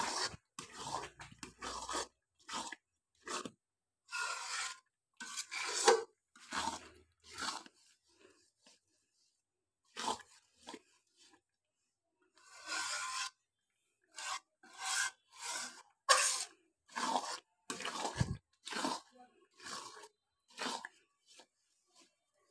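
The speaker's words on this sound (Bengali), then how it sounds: "এভাবে আলুটাকে খানিকটা সময় কিছুক্ষণ নেড়ে চেড়ে নিয়ে" Potatoes being stirred in a cooking pot for a potato dal and fish dish, heard as repeated scraping, rasping strokes in short bursts with pauses, fairly close and moderate in level.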